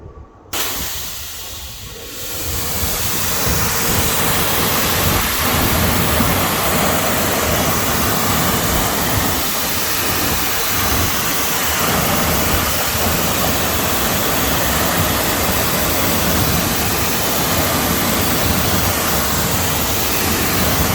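Steady, loud spray of rinse water hitting a wheel and tire coated in Turtle Wax Hyper Foam cleaner, a continuous hissing rush that carries on unbroken with no talking.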